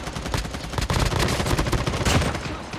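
Rapid gunfire fills a Call of Duty Mobile match, with dense overlapping bursts of shots sounding loud and continuous for a few seconds.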